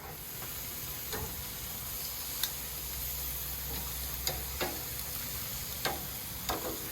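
Chicken brushed with barbecue sauce sizzles on a backyard barbecue grill heated to about 400 degrees, a steady soft hiss and crackle with occasional sharp pops and ticks, no voices.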